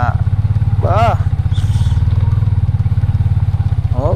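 A motorcycle engine idles with a close, steady low throbbing on a muddy road in Leyte, running continuously while someone talks over it.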